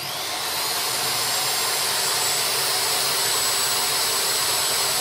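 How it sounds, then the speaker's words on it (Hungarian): Drilling holes in a printed circuit board with a small power drill, a steady loud high whine that rises at the start and then holds evenly for several seconds, with no talk. "Úgyhogy oda kell figyelni és az összes lyukat kifúrni."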